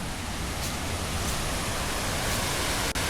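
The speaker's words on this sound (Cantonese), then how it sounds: "上咗條斜路已經聽到啲流水聲啦，聽唔聽到啊？" Water pours from a curved spillway at Ho Pui Reservoir in Yuen Long, Hong Kong, making a steady, dense rush that fills the whole stretch without pause and with no voices.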